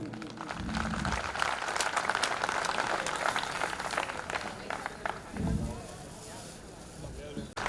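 Applause from a large audience at a trade-union workers' conference, a steady roar of clapping from a crowded hall with a voice speaking over it partway through.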